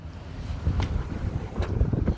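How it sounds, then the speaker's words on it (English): Wind gusting outdoors against the microphone beside a 2012 Chevrolet Silverado Double Cab Z71, a low rumbling buffet that swells and eases over a couple of seconds with no talking. "Ooh, the wind picked up a lot."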